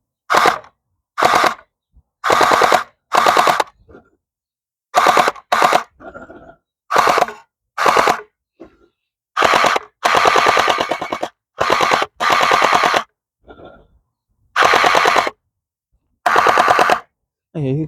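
Gel blaster fired in repeated rapid bursts, each a loud, sharp automatic rattle lasting about half a second to a second, separated by short pauses, close to the listener.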